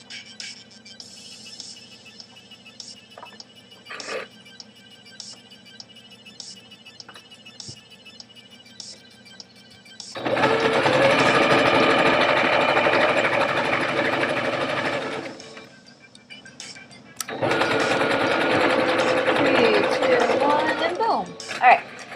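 A sewing machine runs a standard straight stitch along a bag strap while an old bag is upcycled into a purse, two sustained loud runs of steady whirring separated by a pause, with quieter handling and faint sounds before them.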